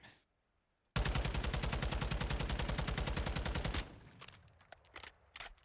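A TAQ 56 assault rifle fires one long full-auto burst in a Call of Duty-style game, a rapid, even, loud string of shots lasting about three seconds, followed by faint clicks and handling noises.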